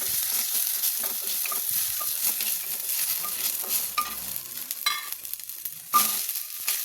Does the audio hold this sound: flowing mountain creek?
no